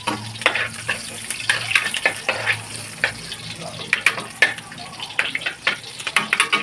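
Onion sautés in a pan, a soft sizzle broken by repeated scraping and stirring strokes, close and moderately loud.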